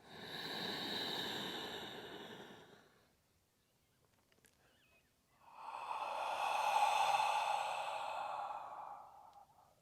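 Two long, loud breaths drawn through the mouth during breathwork, each a rushing, airy inhale lasting a few seconds, close to the ear and separated by a short quiet pause, with no talking.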